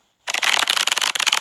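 A deck of Exploding Kittens cards is riffle-shuffled up close, a quick burst of rapid fluttering card clicks lasting just over a second, alone without talking.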